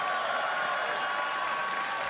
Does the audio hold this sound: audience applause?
yes